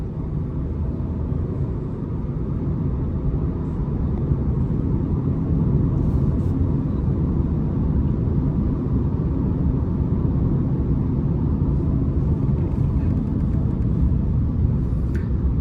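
Engine of an Audi Q3 Sportback S-Line accelerating hard with rapid gear changes, a steady low rumbling drone heard from inside the cabin, continuous and fairly loud with no talking.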